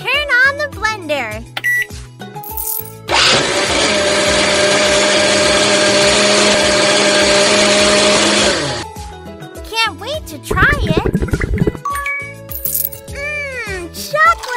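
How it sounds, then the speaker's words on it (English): A cartoon blender whirs steadily for several seconds in the Jungle Animal Hair Salon 2 game while blending banana, loud and continuous between chirpy game sound effects. "Turn on the blender."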